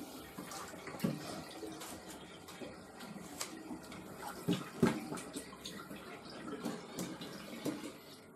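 Poroporo plant being rinsed in running water, a soft continuous splashing and trickle with irregular louder sloshes and drips as the leaves are moved around.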